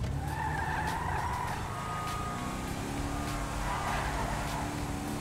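A car in GTA 5 backing up and sliding out of control, a continuous squealing skid of tires over a steady engine roar, loud and close throughout.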